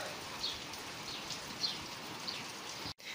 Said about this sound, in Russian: И сейчас иду на улицу, а тут дождик.